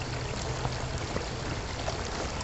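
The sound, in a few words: pouring stream water from bottle into camelbak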